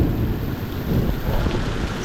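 Heavy rain and gusting wind during a cyclone roar steadily and loudly close to the microphone, a dense constant wash with buffeting wind noise and no voices.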